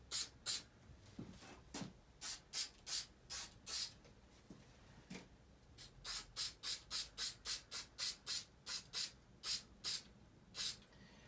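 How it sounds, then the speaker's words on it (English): Repeated short hissing bursts of 3M multi-purpose spray adhesive from an aerosol can, a few spaced puffs followed by a long, steady run of rhythmic sprays, close and fairly quiet with no talking. "And then we're just going to spray it onto both parts."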